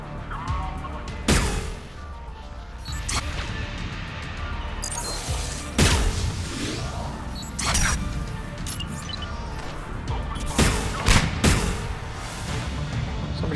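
Gunfire in the video game Mass Effect 3, with several sharp loud shots and crashing impacts scattered irregularly over a constant busy rumble of battle.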